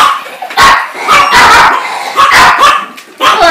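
A dog barking at bath time, giving about five loud, close barks in an uneven rhythm, with short whimpering yips between them.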